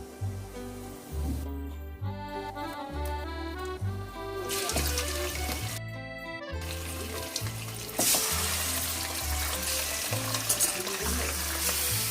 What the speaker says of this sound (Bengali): তেলের মধ্যে জিরে আর তেজপাতা ফোড়ন দিয়ে চাপিয়েছি।